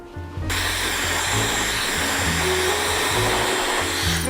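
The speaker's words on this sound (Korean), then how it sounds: "그럼 이 상태로 이제 드라이기 이렇게 세워가지고 이제 가운데 쪽으로 탈 거예요" A hair dryer blows on a man's freshly permed hair, switching on abruptly after a brief quiet moment and then roaring in a loud, steady whir up close.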